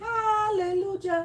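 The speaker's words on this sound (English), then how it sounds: "That's the cat out there." A cat outdoors gives a drawn-out, wavering meow that bends downward in pitch, followed by a shorter second call a moment later. The calls are fairly close and clear.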